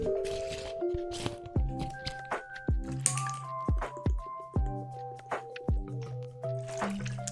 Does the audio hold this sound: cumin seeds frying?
no